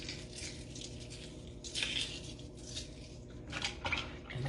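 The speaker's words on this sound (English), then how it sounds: "And then you just continue peeling these." Close, quiet crackling and soft scraping as the shell is peeled off a hard-boiled egg by hand, in irregular small bursts with no talking.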